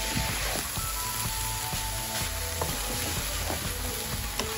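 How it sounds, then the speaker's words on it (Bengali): Mixed vegetables with carrots sizzle softly in a pan, a faint, steady frying crackle broken by repeated light taps and scrapes of a spoon as they are stirred, with no voices. "ভালো করে নাড়াচাড়া করে একটু ভাজা ভাজা করে নিতে হবে।"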